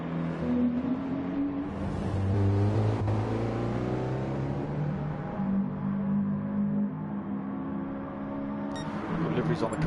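A nitro RC car at a 90's Classics round at Blue Moon Bay revs continuously to warm its rear tyres, its engine whine rising and falling loudly for several seconds, with a commentator talking over it.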